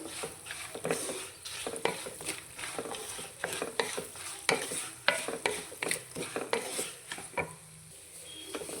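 Dried red chillies fry in oil for pulihora, a soft sizzle under a busy run of rhythmic scrapes and clinks as a spoon stirs them around the pan, close and moderately loud, with no talking.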